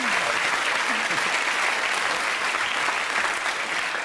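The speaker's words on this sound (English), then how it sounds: "I think you deserve a big round of applause." Studio audience applause on the BBC game show Wipeout, a dense, even roar of clapping from a crowd that stays at full strength from start to finish, with no speech over it.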